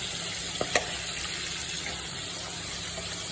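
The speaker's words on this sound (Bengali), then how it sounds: "এখন টমেটোটা ভালো করে একটু ভেজে নিতে হবে" Tomatoes fry in a pan for a chicken and potato curry, a continuous even sizzle with a couple of faint utensil clicks early on.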